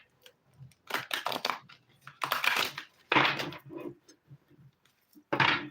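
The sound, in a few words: shuffling stiff thick cardstock cards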